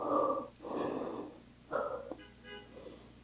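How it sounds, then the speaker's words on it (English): A person resting in child's pose during an upper-body workout class takes deep, audible breaths close by, with long airy inhales and exhales separated by short pauses and a faint wheezy edge. "Find a child's pose and just take a couple deep breaths"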